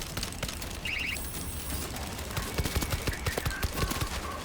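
Weapon fire in the World War Z video game comes as a burst of rapid shots and mechanical clicks, rising into a quick rhythmic volley against a dense game soundscape.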